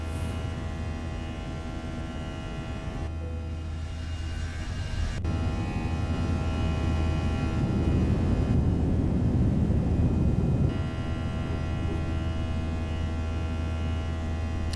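FSLabs A321 airliner with CFM engines in a flight simulator, climbing out of Calgary: a steady, loud engine drone with a low hum that swells in the middle of the clip and then eases back.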